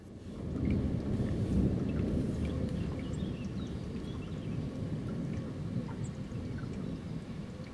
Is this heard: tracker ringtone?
no